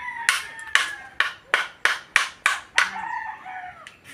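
Chickens calling near a spot where firewood is being chopped for cooking fuel: a run of sharp, evenly spaced loud bursts, about eight in four seconds, followed by softer trailing clucks with no voices.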